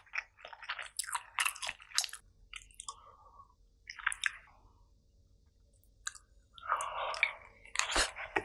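Close-up eating of kimchi fried rice with rolled omelet, wet chewing and soft crunchy bites in uneven bursts with short pauses between mouthfuls, no talking.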